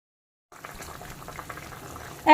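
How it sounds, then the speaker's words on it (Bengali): Potatoes and parwal simmering in curry gravy for a Tyangra fish curry: a soft bubbling boil that starts abruptly after half a second of silence, low and close, with a brief louder burst at the end. "তাই প্রথমে আলু আর পটলটাকে খুব ভালো করে সেদ্ধ করে নিতে হবে।"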